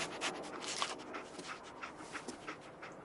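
Dogmeat, the dog in Fallout 4, whimpers and pants quietly over a steady hiss of game ambience, soft continuous breathing with faint whines and no talk.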